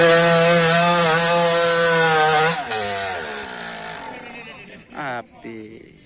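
A Yamaha YZ450 dirt bike engine screams at high revs while climbing a steep hill at a hill-climb event. The loud, sustained whine dips and fades over a few seconds, with a voice talking over it.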